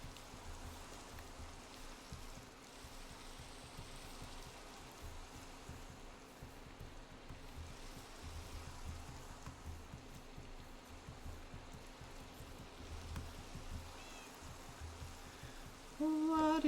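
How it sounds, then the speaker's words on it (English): Steady soft rain in Minecraft, a faint continuous hiss of falling rain that runs unchanged throughout. "I love the rain."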